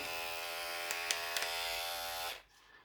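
A Zoofari electric animal hair clipper runs with a steady, close buzzing hum and a few faint clicks, then switches off abruptly near the end, leaving quiet.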